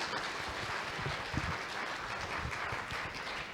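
Audience applause after an invited lecture at an electrical engineering society's summer conference, a steady wash of many hands clapping from a hall crowd, fairly quiet and continuous throughout with no talk.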